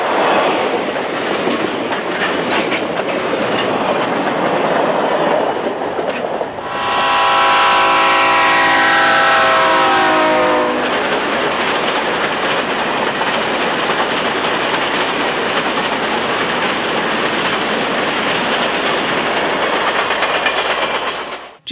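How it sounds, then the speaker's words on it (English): Several first-generation Jeep diesel locomotives lead two GP38-2s on a westbound CSX through freight in July 1986. They rumble loudly past, with a long horn blast partway through and continuous wheel noise throughout. "several first-generation Jeeps lead a pair of GP38-2s on a westbound through freight"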